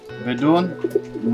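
A pigeon of the Norwegian or American helmet breed coos in a short rolling burst, close by, while someone speaks over it.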